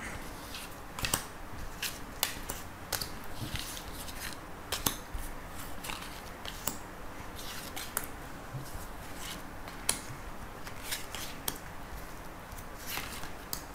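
Tarot cards being shuffled and drawn from a deck give a quiet, close run of crisp snaps and flicks at an irregular, fairly quick rhythm, with no one speaking.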